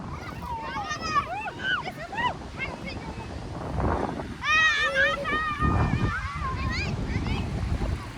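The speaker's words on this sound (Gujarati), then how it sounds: "દરિયામાં થોડોક કરંટ વધારે હોવાથી મોજા વધારે આવે છે." Rough sea surf rolls onto Somnath beach in a steady broadband roar with wind buffeting the microphone, largely masked by loud, excited children's and adults' voices nearby.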